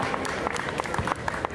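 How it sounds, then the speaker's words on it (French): An audience claps for costumed cosplay contestants at a fan-convention masquerade. The applause is dense and continuous, mixed with crowd noise, and loud throughout the brief stretch. "On peut les applaudir"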